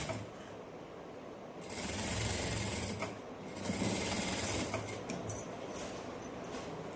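A sewing machine stitches cut cloth pieces, its mechanical whirring and clatter starting, swelling and running on in bursts close by, with no talking.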